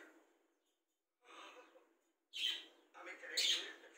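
An angry pet talking parrot makes short, close bursts of chirps and squawks, separated by brief pauses and growing louder toward the end.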